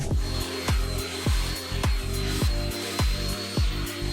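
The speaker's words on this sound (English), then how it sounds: "So I can blow dry my hair, my whole head, in about 10 minutes." A hair dryer blowing on natural hair, a loud continuous whirring drone with rhythmic swooping dips as the airflow sweeps back and forth, close up and alone.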